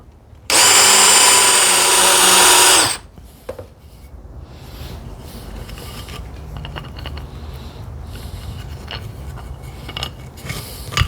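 A power driver sinks screws deep into wood, one loud continuous whirring burst of about two and a half seconds, followed by quieter handling, scraping and faint ticks.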